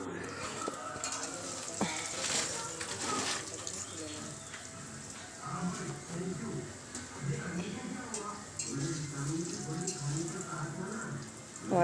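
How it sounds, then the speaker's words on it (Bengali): Potatoes fry in oil until reddish for a Bengali-style chicken curry, giving a continuous moderate sizzle beneath a person's talking. "লাল করে ভালো করে ভেজে নেবো"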